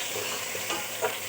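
Chicken with ginger garlic paste sautéing in hot cooking oil with onion, a steady close sizzle with faint stirring scrapes and no talk.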